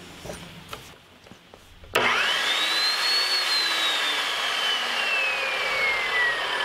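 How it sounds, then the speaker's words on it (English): A new shop saw, slower-running than an abrasive saw, starts with a sharp clank and then cuts metal held in a V block, a loud continuous whine with a slowly shifting pitch after a few faint knocks. "you can see the blade runs much slower than an abrasive saw"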